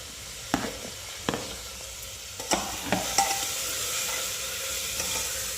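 Tomatoes sautéing with black chutney, chilli powder, garlic and coconut in a pan, a steady soft sizzle broken by several sharp taps and scrapes of a spoon.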